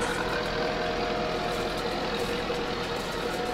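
A small open-cab tractor engine runs steadily at idle in a hay field, a constant low, even rumble with no talk.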